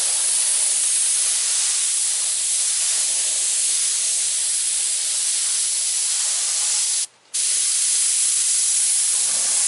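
An airbrush sprays reduced paint onto a Chevy bow tie design in a continuous, close, steady hiss that runs almost the whole time, broken by a brief pause near the end.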